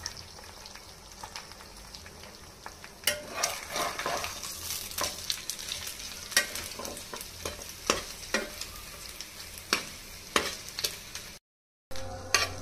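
Garlic and four dried red chilies frying lightly in a pan, with a soft continuous sizzle and repeated stirring scrapes and taps, close but fairly quiet, a brief dropout near the end.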